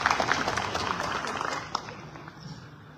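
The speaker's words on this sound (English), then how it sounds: "A round of applause for you." An audience at the 2025 Ugandan presidential debate applauds with dense, crackling clapping that starts strong and gradually thins out and fades over a few seconds.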